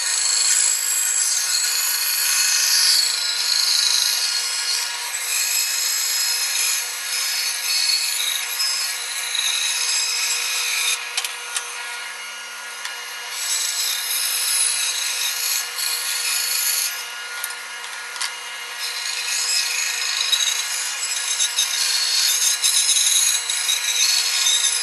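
A hand saw rasps steadily through wood up close, the cutting noise continuous and fairly loud for the whole stretch with only slight dips.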